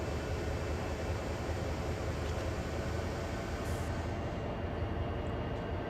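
A train in the Train Sim World video game pulls away under throttle on the Northeast Corridor, giving a dense, steady rumbling roar of engine and rolling noise that stays loud and unchanging throughout.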